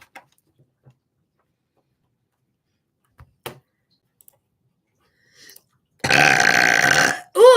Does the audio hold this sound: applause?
no